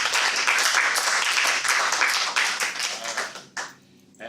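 Small-room applause at a Toastmasters meeting, a dense run of close hand claps that thins out and stops near the end, leaving a short quiet gap.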